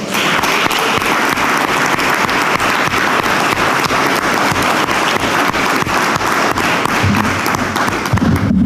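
School board meeting audience applauding two scholarship-winning athletes: loud, dense, steady applause from many hands that fills the whole stretch without letting up.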